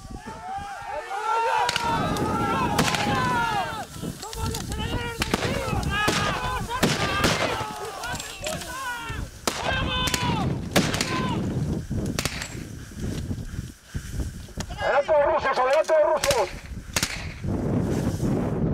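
Repeated sharp gunshots at a battle reenactment crack out in bursts amid shouting voices, some shots close together, others spaced apart, loud and near.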